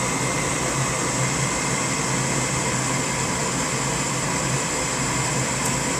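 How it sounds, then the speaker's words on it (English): A Goodman gas furnace running as its burners light, a loud, steady broadband roar and hum from close by with no talking. "Everything heating up back there to light those burners."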